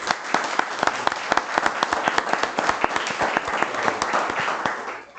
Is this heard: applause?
yes